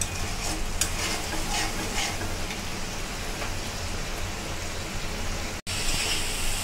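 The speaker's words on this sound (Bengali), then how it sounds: "মশলাটা ভালোভাবে কষিয়ে নিব" Spice paste with ginger and garlic fries hard in oil for a rohu fish curry. The crackling sizzle is dense and close, with stirring clatter early on and a momentary cut near the end.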